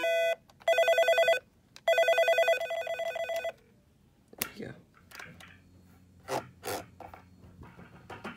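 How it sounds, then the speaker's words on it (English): An old intercom telephone bell in a house rings in two sharp electronic bursts, followed by clattering handling noises and a few faint voices in a room. "the phone rings"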